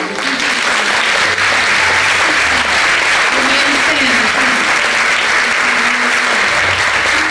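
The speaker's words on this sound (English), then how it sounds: "let us give you a great big EASTBAY Church of Religious Science round of applause" A church congregation gives a loud, sustained round of applause for standing visitors, thick continuous clapping filling the room while a voice speaks briefly over it.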